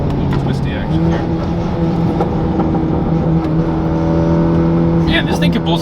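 A tuned Hyundai Veloster accelerating hard along a twisty road, heard as a loud sustained engine roar with shifting pitch and road noise, while people talk over it inside the car.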